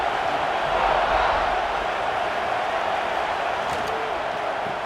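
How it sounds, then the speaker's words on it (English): Broad, steady roar of a large stadium crowd in a college football video game, Missouri at Georgia, a constant wash of noise with faint cheering swelling underneath. "This crowd bringing the energy and noise early."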